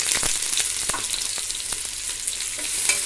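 Sliced onions frying for chicken biryani are stirred in a pan, an even close sizzle with repeated light scraping strokes.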